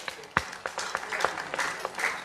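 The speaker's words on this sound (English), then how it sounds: "Another round of applause for her." A crowd at a Nigerian private medical association award ceremony and dinner night claps in a short burst of applause, with scattered sharp individual claps.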